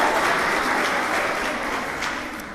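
An audience at a school sixth-grade awards ceremony applauds the award recipients, with a steady, dense burst of clapping that fills the room and fades slightly toward the end.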